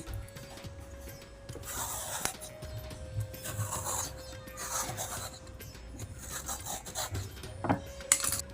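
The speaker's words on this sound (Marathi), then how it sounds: "अशा पद्धतीने ही सगळीकडून साल काढून घ्यायची।" A bottle gourd (lauki) being peeled all around, its skin scraped off in repeated soft rasping strokes, close and fairly quiet, with no one talking.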